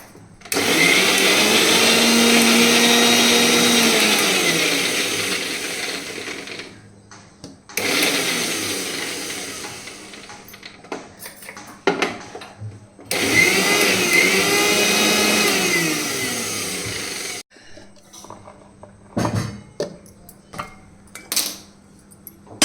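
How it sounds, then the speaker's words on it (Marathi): A kitchen mixer grinder pulverises green chillies, garlic and curry leaves in three loud whirring bursts of several seconds each, the motor pitch sagging as it spins down, with jar rattles and clunks between runs. "मिक्सरला आता बारीक वाटून घेते"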